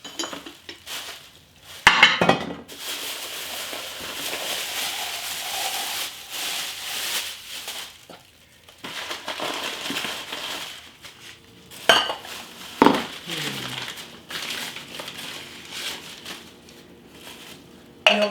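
Ceramic ramekin dishes clink and clatter as they are handled and set down on a pantry shelf, giving scattered sharp knocks amid soft shuffling, with no speech.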